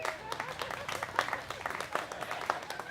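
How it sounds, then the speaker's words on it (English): Married couples in a live comedy festival audience applaud, a dense, steady wash of clapping from a crowd that holds at moderate loudness throughout with occasional sharper individual claps standing out. "A round of applause if you're a married couple"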